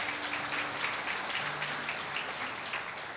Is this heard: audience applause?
yes